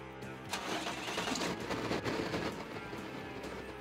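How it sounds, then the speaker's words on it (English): A vehicle's engine turning over and catching, then running steadily at idle with a mid-pitched hum, moderately loud and close, with no one speaking. "Turn on your vehicle."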